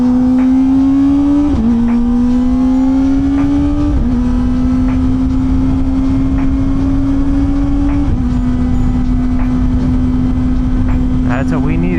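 Motorcycle engine accelerating hard while merging onto a highway past a semi truck, a loud steady drone rising in pitch through several gear shifts with constant wind roar throughout.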